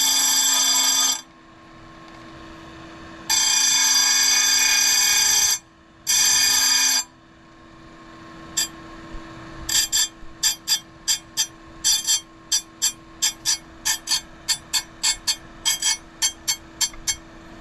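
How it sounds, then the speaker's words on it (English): A multi-point stone dresses the grinding wheel of a Simington 451c chain grinder: long bursts of harsh grinding give way to a quick series of short, sharp rasping touches over a steady motor hum. "I'm going to dress this wheel up here a little bit, just touch it up"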